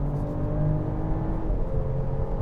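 A 2024 BMW X5 xDrive40i in Sport Plus mode carries a steady engine drone and road roar as it builds speed toward high-speed cruising. The sound is continuous and moderately loud, with no voices.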